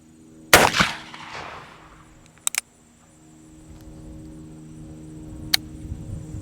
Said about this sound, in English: we're going to go ahead and take 6 shots at the plate with the Ruger Old Army